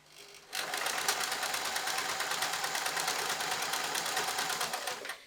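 A sewing machine runs steadily through thick denim jeans while trousers are being mended, a fast even mechanical whir that lasts about five seconds before stopping.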